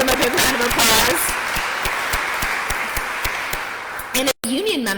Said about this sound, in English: We can give them a big round of applause